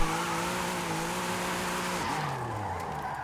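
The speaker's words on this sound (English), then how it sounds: "I can control the slide really easily. Throttle control, steering, everything. Handbrake slides for days." Audi RS5 in Forza Horizon squeals its tires through a sustained handbrake slide, a loud continuous screech over a droning engine note that drops in pitch near the end, with no voices.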